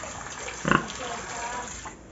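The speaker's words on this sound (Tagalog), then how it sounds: "Ang aming baboy na si Princess." A pet pig lets out a single short grunt at close range, loud against a soft background where a person is talking.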